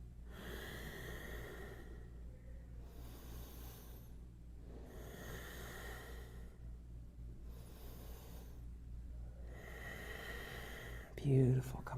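Slow, deep breaths during a yoga side stretch, long airy inhales and exhales alternating in a steady rhythm, close and soft over a low background hum, with a short rustle at the end.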